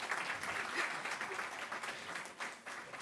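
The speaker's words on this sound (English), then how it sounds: "please, let's give a big round of applause for him" Guests at a book release for a work on the Prevention of Money Laundering Act, 2002 applaud its author, a steady, moderately distant roll of many hands clapping that fades slightly near the end.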